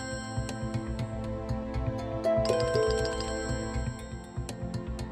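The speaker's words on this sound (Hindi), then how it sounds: "ये लो, फिर से फोन बज गया।" A telephone rings repeatedly in a domestic room setting, a steady electronic ringtone with a regular pulsing rhythm that stays loud and clear throughout, with no voices over it.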